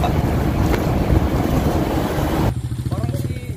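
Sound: boats on the water

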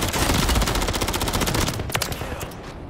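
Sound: pistol gunfire in a video game Resurgence match

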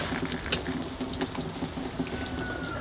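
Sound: water running to water planted acorns

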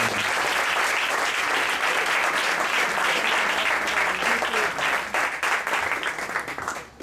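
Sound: applause

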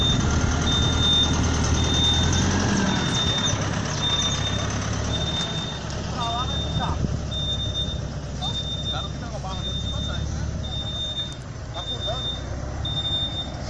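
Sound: tow truck reversing beeps

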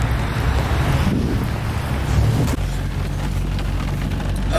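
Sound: pouring rain

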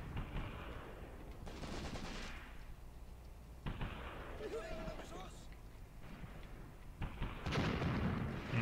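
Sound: mortar firing in Graviteam Tactics video game

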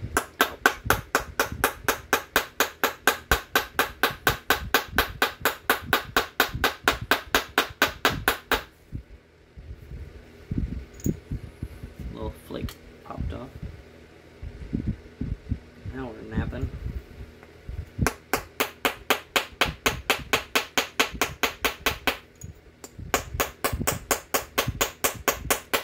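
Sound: hammer stone pounding copper to flatten it

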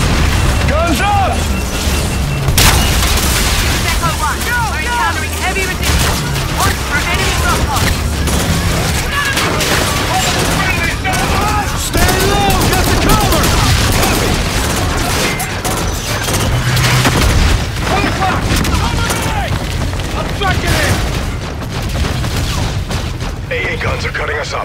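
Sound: gunfire and explosions in video game Call of Duty Infinite Warfare

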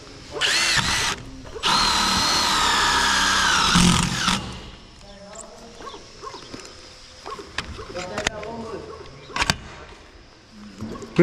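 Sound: power drill driving a screw into a sandwich panel

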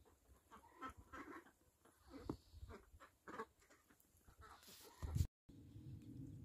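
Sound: Khaki Campbell ducks

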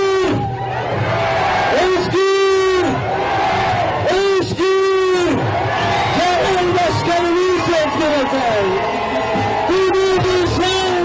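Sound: crowd applauding and cheering for the mayor

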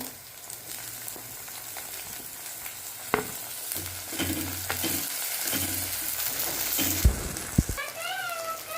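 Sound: onion and tomato frying in a pan for pasta

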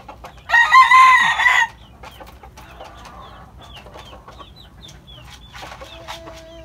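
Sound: chicken clucking while being fed

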